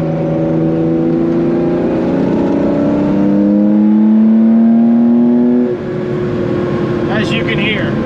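A 1974 Porsche 911 RSR IROC tribute's engine revs up steadily, its droning pitch climbing as it accelerates, loud and close throughout, then drops briefly before pulling again.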